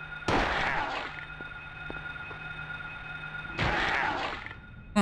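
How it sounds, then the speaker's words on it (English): Two loud, sharp gunshot bursts in Silent Hill 1, each with a long echoing decay, separated by a quiet stretch with faint tones and low hum. "More gunshots."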